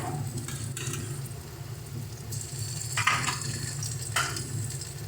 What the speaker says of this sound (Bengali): দিয়ে দেবো এবারে বাটা মশলা কাঁচা লঙ্কা বাটা